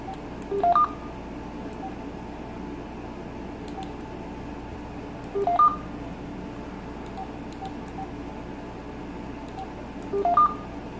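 An AT&T CL82301 cordless handset gives three short two-tone button beeps, spaced several seconds apart over a steady low background hum.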